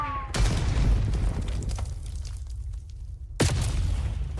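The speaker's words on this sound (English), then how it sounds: "Enemy grenade." Grenade explosions in a first-person shooter game, a heavy boom that starts sharply and rumbles on, then a second sharp blast near the end, both loud against low game noise.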